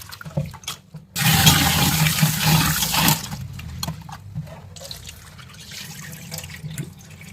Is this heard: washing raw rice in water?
yes